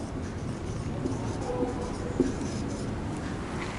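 Chalk or marker writing on a board during a French lesson: soft scratchy strokes and taps at close range, steady and fairly quiet, with no talk over them.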